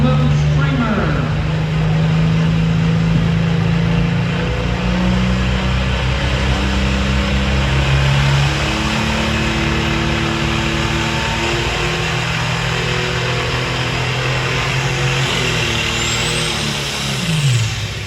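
Loud pulling-tractor engine roars steadily at a county fair tractor pull, its pitch shifting as it revs up and down over a long stretch, with an announcer talking over it.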